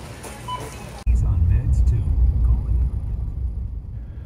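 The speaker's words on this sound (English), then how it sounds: "Now we're driving in South Eureka." Road noise inside a car driving through South Eureka, California, near Highway 101: a loud, steady low rumble that starts abruptly after a brief stretch of quieter sound.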